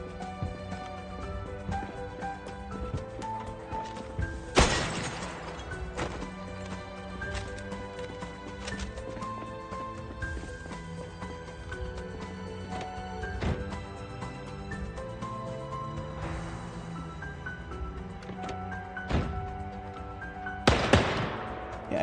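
Gunshots from a firearm in the Project Zomboid video game, a few sharp loud bangs spaced through a busy stretch of game music and ambience, with one cracking pair of shots near the end.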